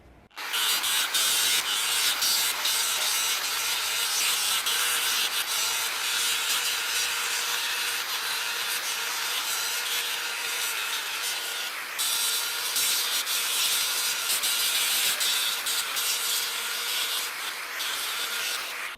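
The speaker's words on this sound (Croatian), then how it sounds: "Idemo ovo do kraja sada da izbrusimo, da je malo opteretimo" A Parkside PPWS 125 A1 angle grinder sands under load, giving a steady, loud, continuous abrasive grinding roar with slight fluctuations and no speech.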